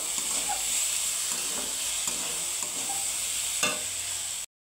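Dalia fried with salt and turmeric in a pan fills the clip with a constant close sizzle and soft scraping stirs, ending abruptly in silence.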